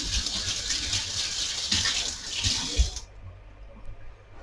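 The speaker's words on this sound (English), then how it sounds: "I'm going to wash my hand first." Tap water runs steadily while hands are washed beneath it in a kitchen, a close broadband gush lasting about three seconds before the flow shuts off, leaving quiet room tone.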